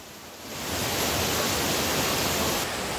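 A waterfall in Chiang Mai, northern Thailand, roars as a broad, steady rush of falling water that swells in over the first moment and then holds dense and constant, with no voices.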